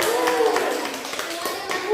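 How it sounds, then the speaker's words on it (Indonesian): Classroom students clapping their hands together at the teacher's request during a lesson, a short burst of claps heard alongside voices. "Tepuk tangan dulu."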